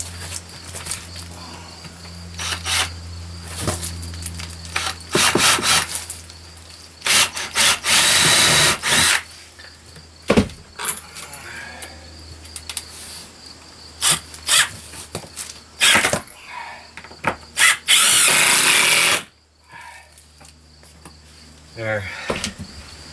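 A power drill drives 3-inch screws through two layers of furring strip into a wall stud inside a tiny house, in several loud whirring bursts separated by quieter handling clatter.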